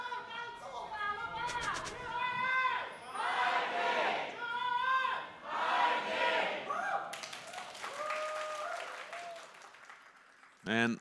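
A live esports crowd at an LCP season finals League of Legends match cheers and applauds in rolling swells, heard under excited commentators talking throughout.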